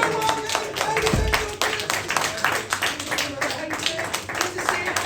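A live audience at an Edinburgh Festival Fringe comedy podcast recording claps and cheers, a dense patter of applause under someone speaking loudly over it.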